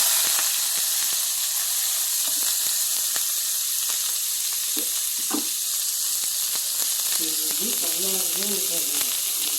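Mustard seeds and onion sizzle and hiss steadily in hot oil while cooking cauliflower and peas poriyal, a continuous close frying noise with a few sharp pops and stirring sounds, and a brief voice near the end.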